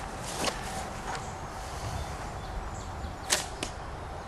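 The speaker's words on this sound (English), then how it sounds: "pull it up, let it go, bam" A hunting slingshot launches an arrow: a few sharp, brief snaps and whooshes stand out against quiet outdoor background noise, with one louder release near the end.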